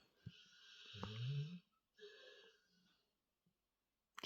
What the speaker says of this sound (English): There's lots of snoring and squeaky noises going on.